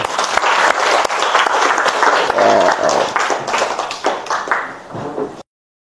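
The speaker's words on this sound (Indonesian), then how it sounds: "Tepuk tangan dulu" Indoor audience applause at a teacher training session, loud and sustained clapping from many hands for about five seconds before cutting off abruptly.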